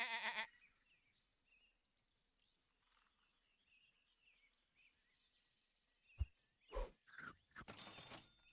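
A sheep bleat sound effect from the video game Super Auto Pets opens loudly and briefly, followed by quiet game music and a few sharp clicks and bursts of effects near the end.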